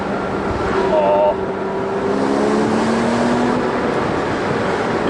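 A 2009 Porsche Boxster 3.4S flat-six engine pulls hard on an open road, its tone climbing steadily as it accelerates, loud and continuous over road and wind rush.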